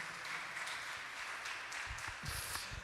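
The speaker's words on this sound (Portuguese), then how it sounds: "Vamos aplaudir ao Senhor pela esposa que Deus deu." A church congregation applauds, sounding faint and somewhat distant. The sustained clapping runs for a few seconds with no clear speech over it.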